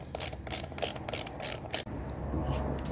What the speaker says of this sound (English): Once again, this is a 5/8 socket. Put that on there squarely and just break it loose.